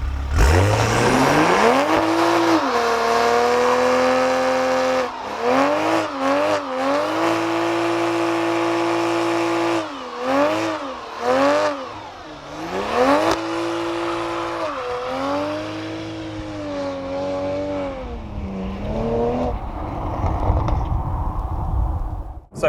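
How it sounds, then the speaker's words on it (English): A 2020 Toyota Supra with an aftermarket exhaust does a burnout, its engine revving hard and rising and falling repeatedly while tyres squeal loudly, close by, without talking. "let's kick things off with a little burnout, shall we?"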